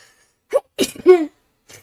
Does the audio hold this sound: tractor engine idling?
no